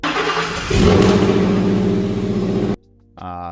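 A Ford Raptor truck engine revs loudly and close for nearly three seconds with a deep, throbbing rumble, then cuts off abruptly before a brief, lower idle-like tone returns.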